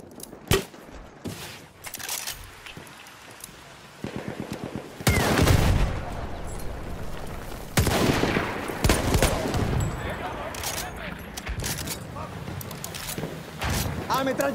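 Heavy machine gun fire in the video game Battlefield, with sustained rapid bursts and booming impacts over several seconds, loud and dense, mixed with other gunfire and mechanical clatter.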